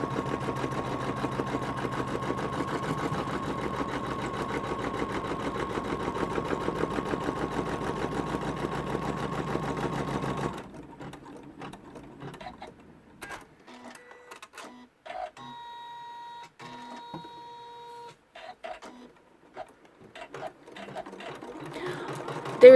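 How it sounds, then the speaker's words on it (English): An embroidery machine stitches out a colorway for an in-the-hoop cork notebook cover, a dense, steady mechanical chatter that runs for about ten seconds before stopping, followed by sparse clicks and faint beeps. "And then I will stitch out the next colorway to hold that down."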